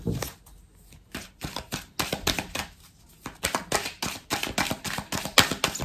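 Persian tarot cards of the Madame Indira deck being shuffled and drawn by hand, rapid rhythmic riffling bursts and snaps of card edges, close and crisp, with brief pauses between runs and no talking.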